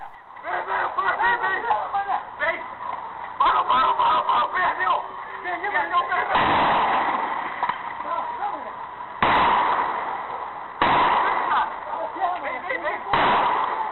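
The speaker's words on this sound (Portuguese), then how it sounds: "Mesmo trocando tiros com os bandidos" Several sharp, loud bangs cut through a noisy street scene with shouting voices, a chaotic close-range exchange of gunfire between police and criminals.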